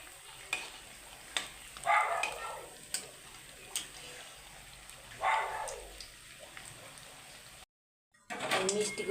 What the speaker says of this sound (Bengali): খুব আস্তে আস্তে ভাজছি